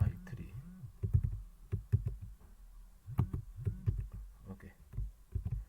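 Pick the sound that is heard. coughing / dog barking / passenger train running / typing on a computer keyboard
typing on a computer keyboard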